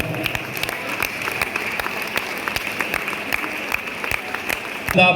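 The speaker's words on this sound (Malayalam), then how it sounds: "അവരെ നമുക്ക് ഈ വേളയിൽ അനുമോദിക്കാം, അഭിനന്ദിക്കാം, നല്ല ഒരു കയ്യടി നൽകാം" An audience at a school LSS felicitation ceremony applauds the prize-winning students with steady, moderately loud clapping. Sharper individual claps stand out above the crowd throughout.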